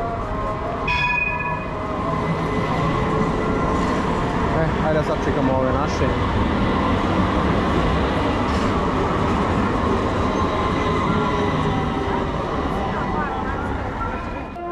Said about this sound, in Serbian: Morali smo da čekamo tramvaj da prođe.